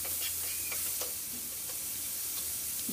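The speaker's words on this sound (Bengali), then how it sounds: "এইভাবে ঢাকা দিয়ে দিয়ে ভাজতে ভাজতে ঝিঙেও নরম হয়ে যাবে এবং ঝিঙে ভাজাও হয়ে যাবে" Ridge gourd with grated coconut sizzles steadily in a pan, a continuous close frying hiss with occasional stirring scrapes and no voices.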